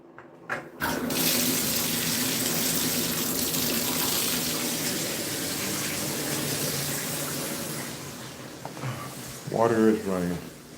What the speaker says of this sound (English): Water is running.